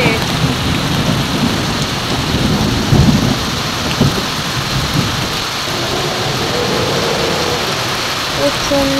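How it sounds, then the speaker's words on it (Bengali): Heavy rain pours steadily during Cyclone Montha, with low rumbles of thunder rolling through the downpour, one stronger roll near the middle; a voice is faintly present at times. "কি পরিমাণ বৃষ্টি পড়ছে, বাপরে বাপ। দেখো আবার আকাশও ডাকছে।"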